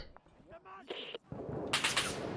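Gunfire in the video game Six Days in Fallujah, a few sharp distant cracks and a dense burst of shots near the end, heard with radio chatter and talking between players.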